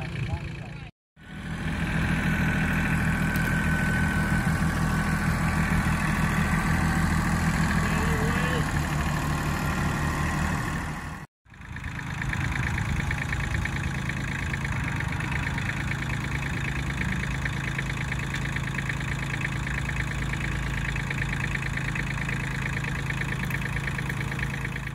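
A tractor engine idles steadily outdoors at a park pond project, a continuous low rumble with two brief dropouts, while someone talks over it.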